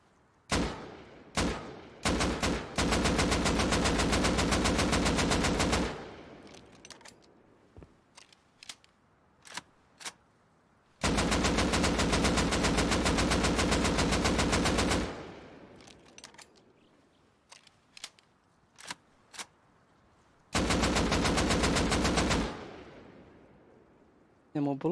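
Gunfire in the video game Rust sprays at solar panels in long sustained automatic bursts, three loud extended volleys broken by quieter single shots and gaps.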